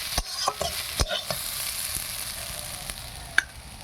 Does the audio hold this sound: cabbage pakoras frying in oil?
yes